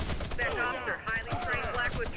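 Rapid bursts from a ZX84 machine gun in the shooter game Warface, a fast rattling fusillade that stays fairly close and runs under a voice.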